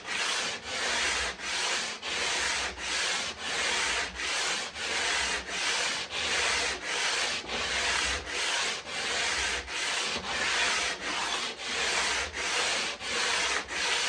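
A guitar fretboard being radiused with a sanding block, steady back-and-forth rubbing strokes on wood repeating in an even rhythm, close and alone.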